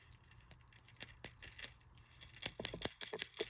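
Pieces of J. Crew glass costume jewelry clinking together in a quick run of small, bright taps, growing busier and louder toward the end, close up with no talking.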